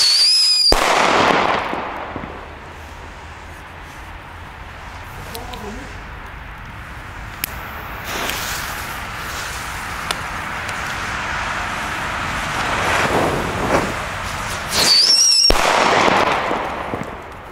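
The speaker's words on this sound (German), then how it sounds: "charakteristisch für diese Böller, die haben, glaube ich, einen Pfeifvorbrenner" A sharp bang opens, then a long lull of outdoor noise before a high rising whistle from a whistling fuse ends in another loud Pyrofactory SCREAM firecracker blast.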